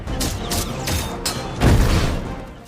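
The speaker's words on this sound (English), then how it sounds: "Jackal just fired his last missiles" Missiles fire in an action scene from a Captain America film, a loud rumbling volley of booms and whooshes swelling near the end.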